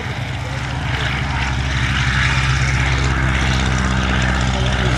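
A Focke-Wulf FW44 Stieglitz biplane flies past at an airshow, its propeller engine droning loud and steady with a low harmonic buzz throughout.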